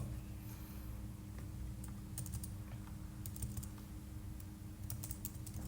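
Fingers tap out code on a computer keyboard in a quiet room, with quick, irregular clusters of soft clicks over a low steady hum.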